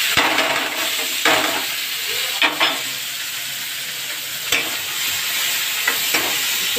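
Chopped onion sizzles in hot oil with cumin seeds for an eggplant curry, a steady frying hiss broken by several short stirring scrapes of a spoon against the pan, close and loud with no talk.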